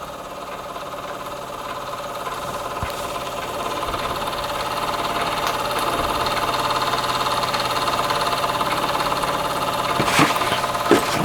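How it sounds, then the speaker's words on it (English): A small marine model steam engine runs on low gas pressure with a soft, steady mechanical purr and faint rhythmic ticking, gradually building slightly, with a few light clicks near the end. "the engine is obviously, there's nothing wrong with that. That is superb. Absolutely purring away."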